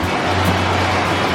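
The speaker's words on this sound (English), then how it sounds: "It is currently pouring rain" Steady pouring rain outdoors on a farm, a dense continuous hiss with a low rumble underneath, loud and unbroken with no voices.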